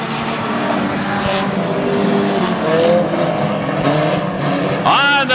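Hornet and Hobby Stock race cars roar around a speedway oval on the final lap of a heat race, a dense layered engine wail with cars sweeping past and a commentator talking over the din.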